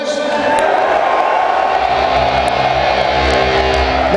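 Concert crowd of men at a show at Harpo's in Detroit cheering, whooping and yelling together, a loud, dense, sustained roar with no pauses.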